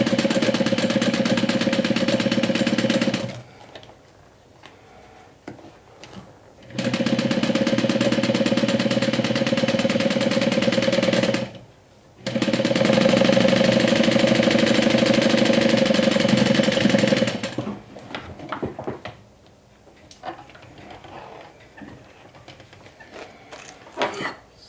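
A sewing machine topstitching along the edge of a fabric swim tote, three steady motor runs of several seconds each with a fast even hum and short pauses between, followed by softer handling clicks and rustles.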